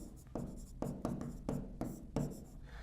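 Pen writing out a maths solution by hand on paper, a series of about six scratchy strokes in a steady rhythm, close and fairly loud with no talking.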